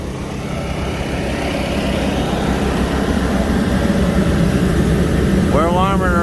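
A Fendt 724 tractor engine warming up runs at a steady idle with a constant low rumble, loud and close, with a voice briefly speaking near the end.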